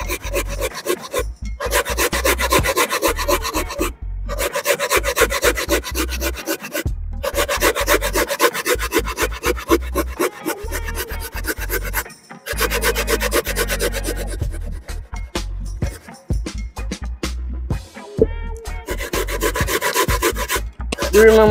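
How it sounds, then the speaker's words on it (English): Coconut being grated by hand, a loud, close, steady rasping scrape repeated in rapid strokes with brief pauses between bursts, continuing for a long stretch without talk. "And I grate the coconut them."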